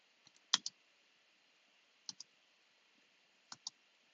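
Computer keyboard keys and the spacebar pressed in short pairs of sharp clicks, three quick double taps spaced apart with near silence between them, close and quiet.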